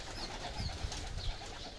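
Pigeons on a pigeon farm in Saudi Arabia coo in soft, low, throaty murmurs over a hum of background noise, with no talking.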